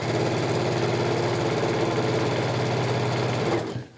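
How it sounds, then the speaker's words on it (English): A sewing machine stitches down a quilt in a fast, steady, even whir that runs loud and close for about three and a half seconds, then stops abruptly. "So I'm just going to start sewing down."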